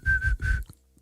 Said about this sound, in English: I whistled in key, a low C whistle.